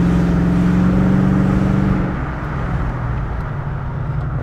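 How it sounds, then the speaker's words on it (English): A 1995–2001 Ford Explorer engine drones loudly and continuously from inside the vehicle, windows down, with a low hum that shifts partway through, along with road and wind noise. "Car is kind of loud, so it may be hard to hear"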